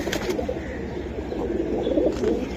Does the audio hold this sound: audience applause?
no